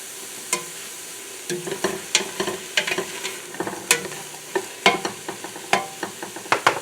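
Vegetables for chili sizzling in a pot while being stirred: a soft continuous fry under a regular series of close spoon scrapes and knocks against the pot, growing more frequent, no talking.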